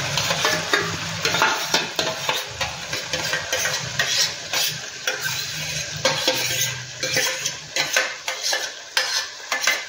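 Curd being stirred into spiced chicken masala in a pan over low heat, with steady scraping strokes of a spoon against the pan and a soft sizzle running underneath throughout.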